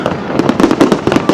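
New Year fireworks over Al Marjan Island, part of a Guinness record attempt, crackle and pop in a dense, continuous barrage of sharp bursts and low booms, loud and unbroken by talk.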